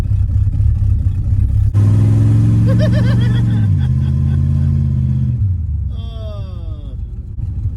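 A 1958 Ford Fairlane engine burbles and rumbles up close as it drives, rising and dropping through the revs, with a brief higher whine near the end.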